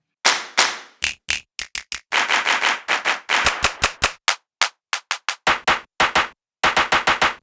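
Clap sample from a Roland MC-101 drum machine is triggered over and over, crisp dry hand claps in quick irregular bursts and runs, loud and close with short gaps of silence between.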